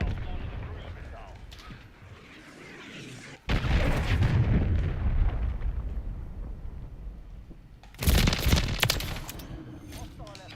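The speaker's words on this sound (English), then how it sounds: "Hostiles launched a cruise missile." A cruise missile explosion in a Call of Duty Modern Warfare III match: two heavy, booming blasts with long rumbling tails, the second loud and sharp, over a background of ongoing gunfire.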